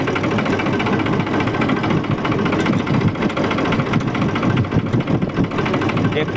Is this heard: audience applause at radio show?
no